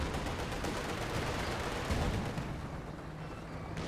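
Tank cannon and gunfire from the World War II strategy game Company of Heroes 2, a steady dense rumble of distant battle with booming shots blending into a continuous wash, no talk.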